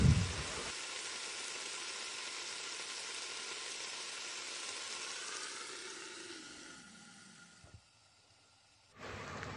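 Grated raw mango cooking with sugar in a pan gives off a steady, close hissing sizzle that gradually softens, drops away briefly, then returns loudly.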